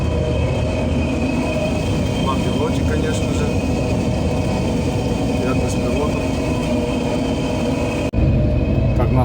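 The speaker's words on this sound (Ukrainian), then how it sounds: "Тіляшка їздить по полі." A grain cart rolls across harvested wheat stubble during harvest with a Claas Lexion 580 combine, heard as a loud, steady, close engine and running-gear rumble that cuts out abruptly near the end, with voices talking over it.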